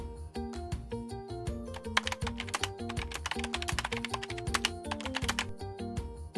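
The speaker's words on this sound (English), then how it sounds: "Type your text for footer." Computer keyboard keys clack in quick, uneven bursts as footer text is typed into a PowerPoint slide, close and fairly quiet with no talking.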